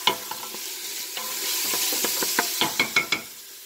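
Onions sauté in a soup pot for a keto sausage lentil soup, crackling with a steady sizzle as a spoon stirs. A run of sharp knocks from the utensil striking the pot follows close up near the end.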